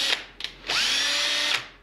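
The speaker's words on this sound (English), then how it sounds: "I have a 1/2 inch socket on a hex drive here, put it in my cordless drill" A cordless drill spins a 1/2 inch socket on a hex drive to adjust the vise of a Harbor Freight mini mill: two short blips, then a sustained whirring run of under a second that winds down, close and clear.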